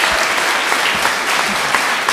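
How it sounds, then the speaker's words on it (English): Audience applause at an art prize closing gala and awards ceremony, a dense, steady wash of clapping from a crowd that holds at an even level for the whole stretch. "So I'd like to give a nice big round of applause for Janet for introducing us."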